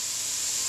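Zucchini frying in its own juices in a pan, a brief steady hiss of sizzling heard close and alone.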